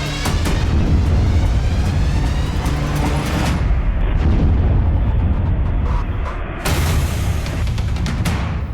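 A big blast at Nowgam police station in Jammu and Kashmir on a Friday night. It comes as a loud, sustained roaring rumble with crackling bursts, easing briefly before a fresh surge near the end.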